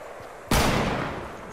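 A single sharp assault rifle shot in the battle royale game Fortnite, cracking in suddenly out of quiet background and trailing off in a fading echoing tail.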